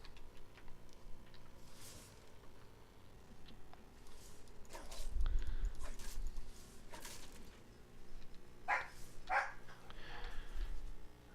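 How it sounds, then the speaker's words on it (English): Real dogs bark at a house somewhere off in the background, with a few scattered, distant yaps rising faintly over a low ambient hum and some thuds. "Oh, forgive the dogs."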